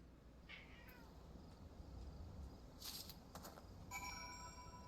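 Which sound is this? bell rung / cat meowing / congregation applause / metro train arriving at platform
cat meowing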